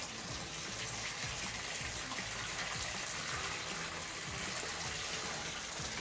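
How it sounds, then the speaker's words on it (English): Water pours steadily from a Delta faucet into a sink, a loud, continuous rushing gush that runs unbroken with no talking over it. "when I turn my water back on, it won't go past that"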